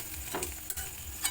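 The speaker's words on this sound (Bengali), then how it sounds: "প্রথমে তেল দিলাম, তারপরে গরম মশলা ফোড়ন দিলাম" Garam masala tempering sizzles in hot oil, a soft steady fry with faint stirring scrapes, close and quiet, with no voices.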